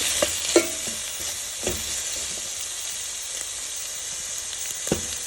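Pork fat spits and sizzles in a pan as onion and garlic fry for pancit canton guisado, a steady broadband hiss broken by a few sharp pops and stirring knocks, close and fairly loud with no talk.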